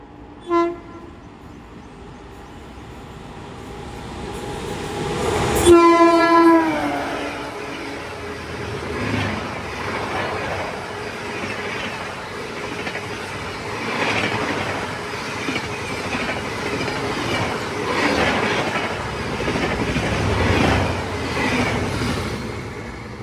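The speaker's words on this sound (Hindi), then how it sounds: "तो भाई ये थी अपनी बांद्रा बरौनी अवध एक्सप्रेस" Bandra Barauni Avadh Express hauled by a Hubli-based locomotive sounds a loud horn blast near the start, then roars past with a steady rumble of coaches and wheel clatter for over fifteen seconds.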